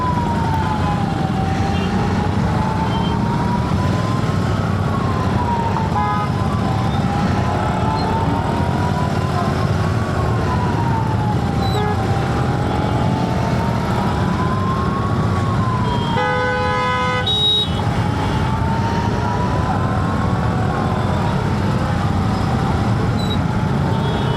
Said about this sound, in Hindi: एम्बुलेंस भी फंसी हुई है।